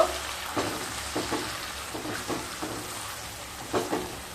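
Soaked mung dal and raw papaya sauté in a pan, giving a steady sizzle broken by periodic scraping stirs of a spatula, moderately close, with no voices.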